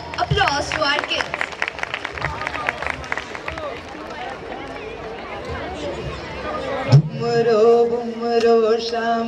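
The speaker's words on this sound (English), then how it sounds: "Parents, kindly give a big round of applause to our kids." At a kindergarten annual day, parents clap for the children in a brisk burst of applause mixed with crowd chatter, thinning out partway through before music and voices take over near the end.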